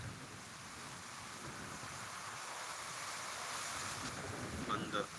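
The first monsoon rain of 2025 in Deulgaon Raja falls as a steady, broad hiss that stays constant throughout, heard from indoors with faint squeaks near the end.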